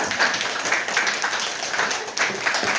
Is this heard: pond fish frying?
no